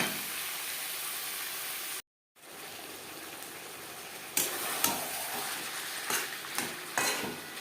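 Chicken and potato curry cooks in a pan over a high-to-medium gas flame, giving a steady moderate sizzle and bubbling with a brief gap and a few sharper stirring scrapes toward the end, no talking.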